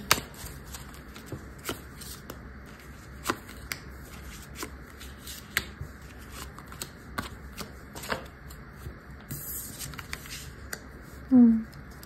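Fortune-telling cards are shuffled in repeated crisp, riffling bursts close up, interspersed with sharp taps as cards are set down, with quiet talking faintly underneath.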